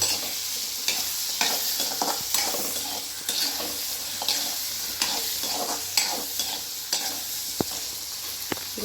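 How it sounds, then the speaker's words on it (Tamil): Garlic and onion sautéing in a pan for avarakkai puli kuzhambu, a steady close sizzle broken by regular scraping stirs and a few sharp clinks of the spoon against the pan. "இந்த பூண்டு வெங்காயம் நல்லா வதங்கணும்"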